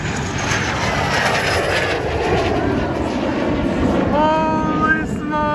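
A T-37 Tweety Bird jet trainer, painted like an A-37, makes a loud flyby at an airshow with a shrill, high-pitched jet engine whine over broad roaring noise, sliding tones rising near the end as it passes.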